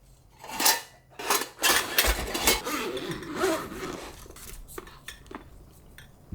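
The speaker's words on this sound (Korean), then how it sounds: "이거는 그냥 가벼운 티타늄 접시고요" Light metal plates clatter and clink together, with scraping and rattling as they are shuffled and set down, then the handling quiets toward the end.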